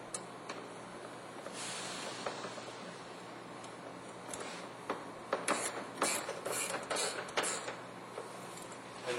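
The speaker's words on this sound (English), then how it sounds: "let's get our 10mm bolts back in. Start out here. Turning clockwise, just snugging them up, not over tightening them." Hand ratchet snugging 10mm bolts on a 2005 Ford Expedition: quiet, close clicking of the pawl in short bursts, with small scrapes between them, growing busier toward the end.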